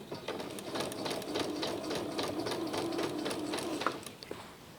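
A sewing machine runs a long stitch around a trouser waistband, buzzing steadily and close for a few seconds before slowing to a stop.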